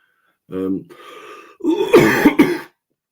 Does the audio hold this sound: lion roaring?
no